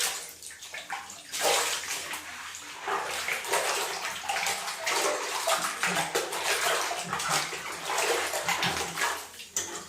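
Tap water runs into a bathroom sink as a rag is rinsed beneath it, an uneven, close gushing and sloshing that swells and dips over about ten seconds.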